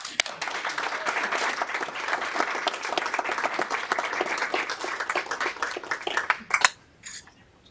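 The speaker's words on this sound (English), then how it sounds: "one more round of applause" A room of people at a school board meeting claps in a sustained round of applause that fades out near the end.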